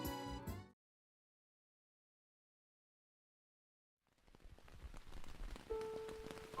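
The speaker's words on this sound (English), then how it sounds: "The rain came soon after." Steady rain falling in the video game Gensou Manege, a dense hiss of drops that fades in after a stretch of silence and holds at a moderate level, with a faint sustained tone entering near the end.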